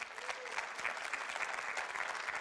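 Steady applause from a church congregation during a Sunday Spanish-language service, a dense, even patter of many hands clapping at moderate volume with no break.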